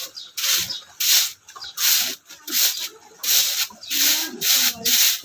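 Something is being rubbed and scrubbed in a steady rhythm, about eight regular rasping strokes close up, each a bright scratchy swipe separated by short pauses, with faint voices underneath.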